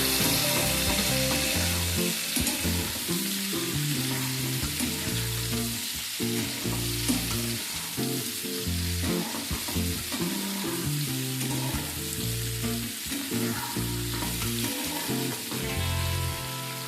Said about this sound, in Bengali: এবার অল্প কিছুক্ষণ আমি আমলকিগুলোকে একটু নাড়াচাড়া করে নেব।